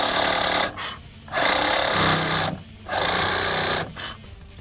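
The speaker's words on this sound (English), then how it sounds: "the reason I like the Sawzall, it's a little faster." Sawzall reciprocating saw cutting across a deck board, giving a loud, harsh buzzing drone in three long bursts separated by brief dips as the blade slows, close and with no talk.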